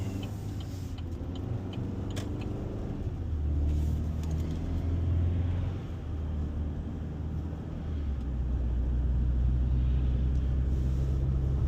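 Two-wheel-drive 2.7-liter four-cylinder Chevy Silverado 1500 pickup pulling out and driving, its engine a low rumble that swells as it accelerates, with a steady road drone and no talk.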